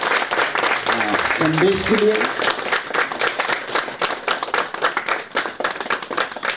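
Church congregation applauding a speaker, dense continuous clapping from many hands filling the whole stretch, with a brief spoken voice near the start.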